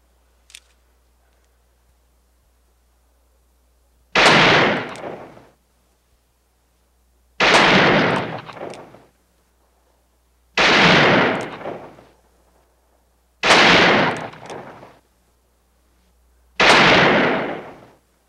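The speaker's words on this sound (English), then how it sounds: "Now aim well and put 5 slugs in it." Five revolver shots ring out at target practice in a film scene, each a loud sharp crack with a decaying echo, spaced roughly three seconds apart.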